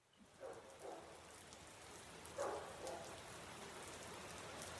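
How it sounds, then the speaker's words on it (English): Steady rain pattering on surfaces outside a house, soft and close, with a couple of faint louder splashes or knocks rising briefly above the constant wash of drops. "Oh, rain."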